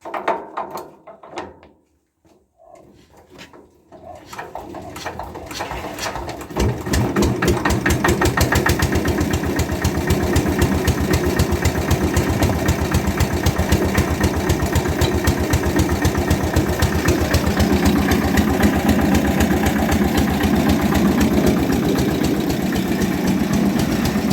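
A Benford LS concrete mixer engine is cranked by hand, with a few clunks and a pause before it catches and settles into a steady, loud, close running chug that continues to the end.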